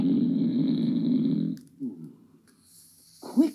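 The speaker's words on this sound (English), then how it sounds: "he began to snore so loudly that it sounded like thunder" A giant in a Jack and the Beanstalk story lets out a long, loud, rumbling snore, followed by quieter breathy snorts and a short final snort, with no talk over it.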